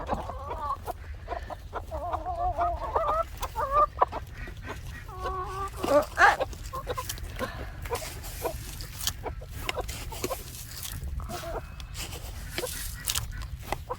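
Chickens clucking close by in short, scattered bursts, with a busier flurry of clucks in the middle over a low, steady background rumble.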